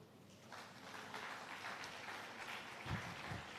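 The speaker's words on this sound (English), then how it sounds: "I believe the applause can continue till she makes her way to the seat." Audience at a teacher training institute closing ceremony giving warm applause, a moderate, fairly distant wash of clapping that swells slightly near the end.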